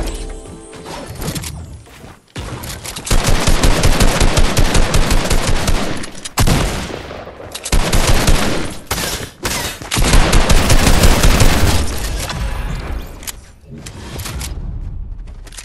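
SMG gunfire in Fortnite, loud sustained rapid bursts of automatic fire with short breaks between volleys, close and dominant over a faint voice.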